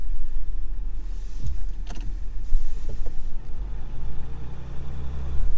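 Car cruising along a muddy lake road at Bartlett Lake, Arizona, heard from inside as a steady low rumble of engine and road noise with a few brief bumps and creaks over the ride, no talking.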